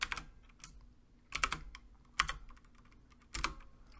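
Keystrokes on a computer keyboard as a command is entered, arriving in a few separate bursts of close, crisp clicks with pauses between them, no voices.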